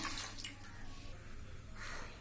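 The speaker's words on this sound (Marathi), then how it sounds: "आता लागेल तितकं पाणी घालूया" Water pours steadily into a pressure cooker holding washed black-eyed beans and a potato, a close, continuous splashing rush that swells slightly toward the end.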